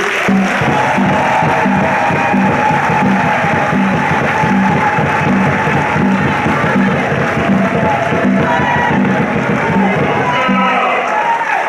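A crowd at a political rally in Brussels applauds and cheers in a dense, unbroken roar of clapping and raised voices that holds at a steady loud level throughout.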